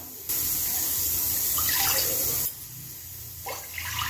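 Water pours steadily into a pot to be boiled for rice flour dough, a loud rushing stream that cuts off partway, followed by quieter splashing.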